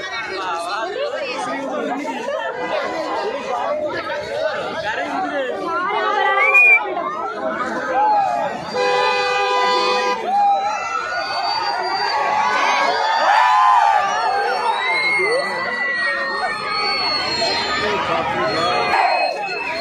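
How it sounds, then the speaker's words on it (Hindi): A large, dense crowd gathered at Hongasandra Bus Stop in Bangalore for a Hanuman idol welcome fills the air with loud overlapping chatter, shouts and cheering, with a whistle-like tone cutting through briefly. "बहुत भीड़ है"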